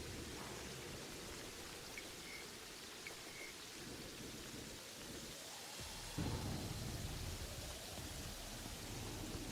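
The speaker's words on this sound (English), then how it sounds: "And yeah, it's raining right now." Steady, heavy rain from a Terraria video game pours down without a break, and a deep rumble of thunder rolls in a little past the middle. No voices are heard over it.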